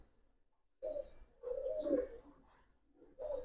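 Chila breed pigeons coo close by in a few soft, throaty bursts separated by short pauses, with no voices over them.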